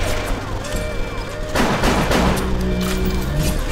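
Armor-piercing rounds fire in BioShock, bursting into a louder barrage of gunshots and crashing impacts halfway through over a busy game soundscape.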